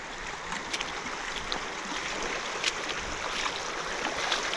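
Wading across a shallow mountain stream on the John Muir Trail near McClure Meadows: a steady rush of flowing water with intermittent splashes and sloshing steps, close by.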